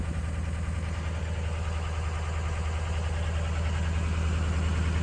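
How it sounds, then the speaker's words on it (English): A 2003 Ford F450 box truck's diesel engine idles in a steady low rumble with a fine rhythmic clatter, continuous and fairly quiet throughout. "It's a strong sounding diesel."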